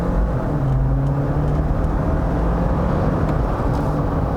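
A 2022 Jeep Wrangler Sahara 4xe plug-in hybrid accelerating hard on a launch run, giving a steady, loud engine and road roar that holds throughout.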